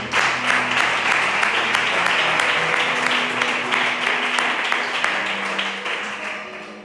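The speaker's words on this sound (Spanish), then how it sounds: "Dale un aplauso al Señor." A congregation claps for the Lord during a Spanish-language church sermon, dense sustained applause filling the room with a faint tonal hum beneath that eases off toward the end.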